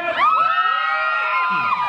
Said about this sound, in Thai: ขอเสียงกองเชียร์ความปังของดวงจันทร์นะครับ